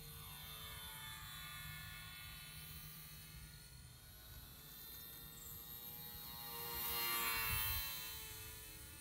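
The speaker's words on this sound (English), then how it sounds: "As you can see, the Arrow flies very well. This is a good flying model airplane." A Guillow's Arrow RC model airplane in flight: a faint, steady motor drone with a thin whine that swells louder for a moment as the plane passes closer, then fades again.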